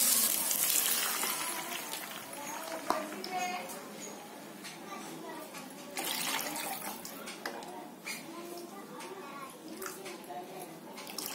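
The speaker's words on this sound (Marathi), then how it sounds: "आता मी आहे ना थोडा गॅस बारीक करते आणि याच्यामध्ये पाणी टाकते." Water poured into a pan of fried vegetables for guava upma on lowered gas, a broad splashing hiss running through the clip with someone talking over it.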